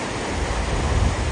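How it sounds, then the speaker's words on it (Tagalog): Strong ocean waves surging onto a shallow, rocky shore, a steady broadband roar of rushing water with low rumble, continuous and fairly loud, no voices. "Lakas talaga ng alon."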